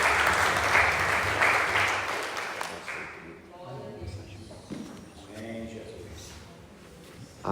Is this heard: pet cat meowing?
no